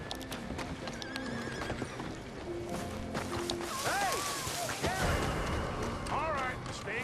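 Horses in the Red Dead Redemption 2 video game whinny several times over clip-clopping hooves, the rising-falling neighs standing out toward the end amid game ambience and voices.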